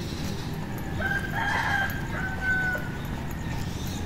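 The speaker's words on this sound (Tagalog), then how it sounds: "Maririnig niyo yung mga tilaok ng manok sa umagang kay ganda." A rooster crows in the morning air, its call rising and falling a couple of times at moderate distance over steady outdoor ambience, with no talking.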